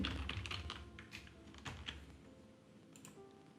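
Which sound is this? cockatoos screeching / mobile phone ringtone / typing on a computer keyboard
typing on a computer keyboard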